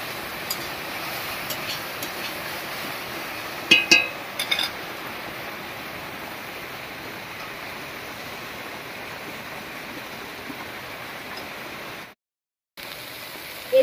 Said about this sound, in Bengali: রান্না করতে করতে বৃষ্টি নেমে গেল।